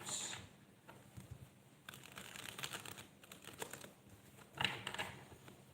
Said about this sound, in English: Just shuffle the tarot in case we need to clarify any of the oracle cards I'm going to bring out.